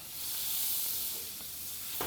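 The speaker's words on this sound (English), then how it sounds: "Listen to that sizzle." Steady, bright sizzling of butter melting in a hot skillet, a constant crackling hiss with a faint scrape of stirring near the end.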